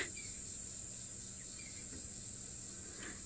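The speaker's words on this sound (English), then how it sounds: "listening to all the sounds, the cicadas in the background" Cicadas droning at a waterhole in an African safari setting, a steady high-pitched buzz that holds evenly throughout, with faint bird calls surfacing briefly in the background.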